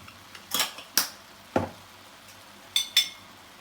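Potato gratin ingredients and spices being mixed in a dish: a handful of sharp clinks and scrapes of a utensil against the dish, spaced irregularly, close and fairly quiet, with no talking.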